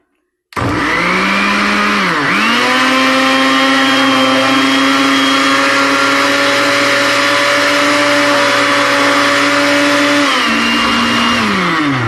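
A blender roars steadily while blending a kale green smoothie, loud and close, with the motor pitch dipping briefly near the start and again toward the end before cutting off.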